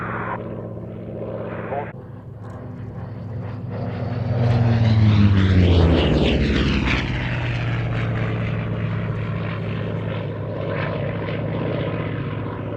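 A Grumman Bearcat propeller fighter roars past at a naval airshow, its piston engine rising loud as it flies close by around the middle, then settling into a steady drone into the distance, with a commentator talking over it.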